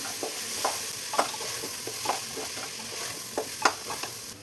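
A ground paste of ginger, garlic, green chili and cumin sautés over medium flame in a pan. A soft continuous sizzle runs under regular spoon scrapes and taps, close and moderately loud, with no talking.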